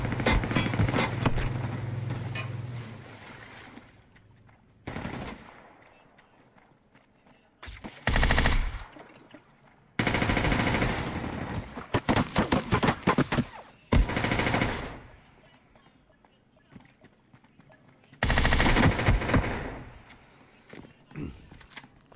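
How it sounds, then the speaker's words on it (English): Video game gunfire in bursts of rapid automatic shooting, loud and close, separated by quieter gaps with occasional single shots. "Shooting at us."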